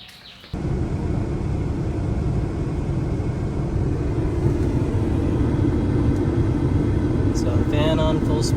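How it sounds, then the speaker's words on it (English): Cooling fans on a Porsche 997 running at full speed, a steady loud broadband whoosh and hum that starts abruptly after half a second and holds constant, heard close up. "Fan on full speed."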